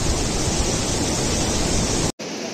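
River water rushing over rocks on the trek from Lukla to Namche Bazar, a loud, dense, continuous roar that cuts out abruptly for a split second near the end before resuming more softly.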